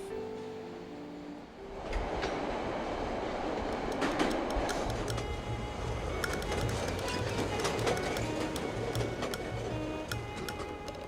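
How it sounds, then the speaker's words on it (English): Chicago Red Line subway train in the State Street subway, a loud rumbling roar with rattling clicks and metallic squeals building after a quieter start, close and continuous. "This is where we catch the Red Line and head south."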